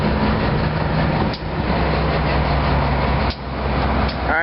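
SEPTA train approaching, heard as a steady loud rumble and drone with two brief dips, continuous throughout.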